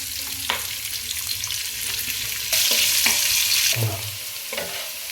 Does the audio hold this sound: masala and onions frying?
yes